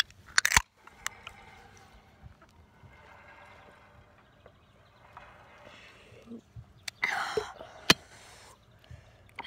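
Fresh ginger root is bitten and chewed, giving a few sharp crunches at the start and near the end with quieter, faint chewing in between.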